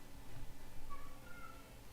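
A house cat meows indoors, two faint thin cries close together against a steady background hum, with no talking.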